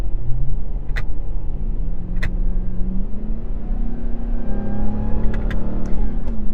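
A RAM 1500 TRX pickup with a supercharged Hellcat V8 accelerates hard, heard loud from inside the cabin: a deep rumbling drone that climbs through gears, with rising whine and brief sharp shift pops.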